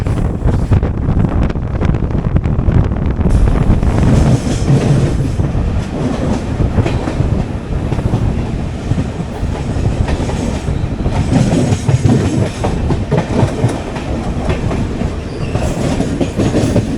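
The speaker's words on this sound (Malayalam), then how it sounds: "കന്യാകുമാരിയിലേക്കുള്ള പരശുരാം എക്സ്പ്രസ് ആണ്." Parasuram Express train bound for Kanyakumari passing on the railway, a loud continuous rumble with rhythmic clickety-clack of wheels over rail joints and some wind buffeting throughout.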